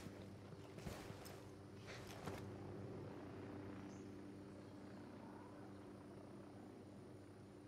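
A helicopter in the video game Ghost Recon Wildlands drones steadily at a faint, distant level, its low rotor hum continuous throughout with a couple of brief sharper bursts near the start.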